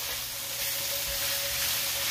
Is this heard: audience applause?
no